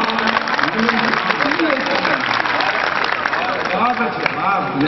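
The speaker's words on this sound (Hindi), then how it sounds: "अब आपकी तालियां चाहूंगा।" Applause and clapping from an audience at a Kavi Sammelan poetry gathering in Sujangarh, a dense, steady patter filling the whole stretch with voices talking over it.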